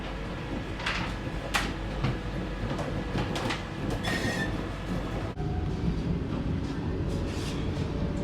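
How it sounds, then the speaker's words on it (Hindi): Saffron Vande Bharat express train pulling out of Prayagraj station and picking up speed, a steady rumble of wheels on track with intermittent metallic clacks and squeals, no talking. "क्या ज़बरदस्त एक्सेलरेट किया ट्रेन ने प्रयागराज से निकलते ही।"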